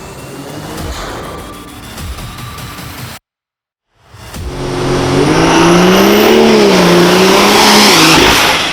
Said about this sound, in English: That V12 diesel panzer motor, 39 liters of pure raw force built for steel giants like the Tiger II.